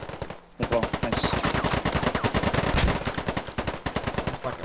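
Sustained rapid automatic gunfire from the video game Polygon fills the whole stretch, a loud, continuous rattle of evenly spaced shots with only a brief gap near the start.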